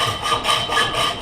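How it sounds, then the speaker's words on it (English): A hacksaw cuts on the push stroke while building a tremolo blocker, a steady rasping scrape with a brief pause mid-stroke, close and fairly loud. "Let the saw do the work. And it cuts on the push."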